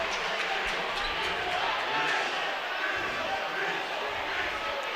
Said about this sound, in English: Bombers crowd goes wild